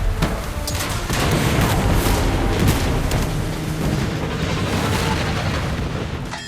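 Heavy naval guns of the battleship USS Missouri fire in the video game Battleship, a dense, continuous barrage of deep booms and blasts rolling over one another at loud, sustained volume.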